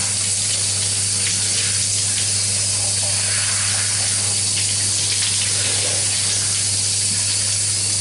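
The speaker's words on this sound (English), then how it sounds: "I just feel that beautiful life-giving water." A strong, continuous spray of water hisses loudly and steadily from start to end, a dense rushing wash of sound with no talking over it.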